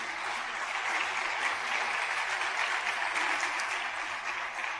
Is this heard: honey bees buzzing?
no